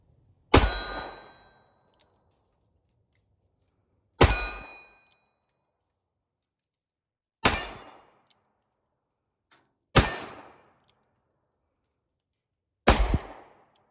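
Five sharp gunshots from a Smith & Wesson Model 10 revolver fired single action outdoors at a range, each crack ringing out with a short decaying tail, spaced several seconds apart.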